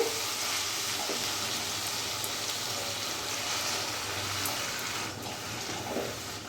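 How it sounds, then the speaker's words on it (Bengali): A pan of sautéed mushroom masala gives a quieter, even sizzle as water is added, with a couple of faint knocks and the hiss settling slightly toward the end, and no one talking. "মাশরুমটার সাথে আমি এবার এখানে একটু জল অ্যাড করব।"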